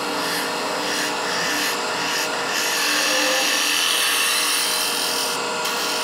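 A lathe tool cuts into a spinning wooden hollow sphere, producing a steady, close, rasping scrape that holds evenly throughout with slight shifts in pressure.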